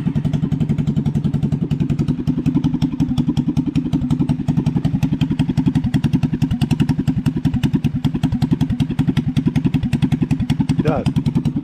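A cold Alfa 50cc moped engine runs close and loud with a rapid, steady putter of regular exhaust pulses, a brief rising rev near the end.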